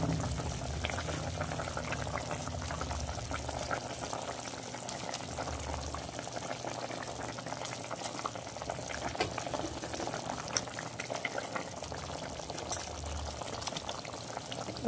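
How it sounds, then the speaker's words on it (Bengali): Water boils at a steady roll in a pot while fish goes in for a curry, giving a continuous dense bubbling hiss that fills the whole stretch without letup. "জলটা ফুটে গেছে, এবার আমি মাছগুলো দিয়ে দেবো"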